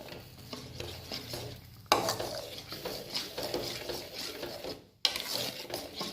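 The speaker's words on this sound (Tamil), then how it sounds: "ஆரம்பத்துலேருந்து கடைசி வரைக்கும் நிறுத்தாமல் கிண்டணும்" A spoon scrapes and stirs thick almond halwa in a pan, with repeated rhythmic scraping and a faint sizzle, continuous apart from two brief breaks.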